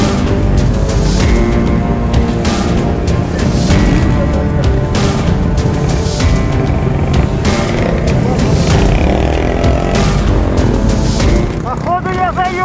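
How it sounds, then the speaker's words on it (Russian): A Minsk motorcycle in the Sosnovskoe Enduro 2021 race roars steadily and loudly up close, its engine note rising and falling without a break, with voices faintly mixed in. "Наш Минскачок поехал, так и едет со всеми."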